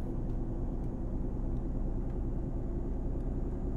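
A Volvo truck engine drones in Euro Truck Simulator 2 with the engine brake engaged, giving a steady, dense low rumble that holds evenly without breaks.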